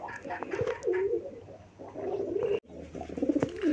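Native pigeons coo nearby in repeated throaty, rolling phrases, one call following another with short gaps and a brief break near the end.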